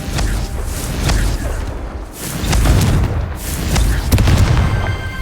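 Confringo spell blasts boom in Hogwarts Legacy, several heavy thuds and bursts spaced a second or two apart, loud and close over continuous game noise.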